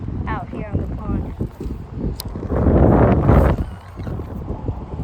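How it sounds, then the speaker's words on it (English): Wind gusts buffet the microphone beside a fishing pond, a loud rumbling rush that swells in the middle, with a person talking nearby. "We got the wind again."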